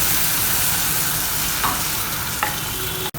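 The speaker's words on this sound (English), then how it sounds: "Now let's make thin crepes. Cook it on one side and flip it." Thin crepe batter sizzles in a hot pan, a steady close frying hiss with a couple of faint clinks.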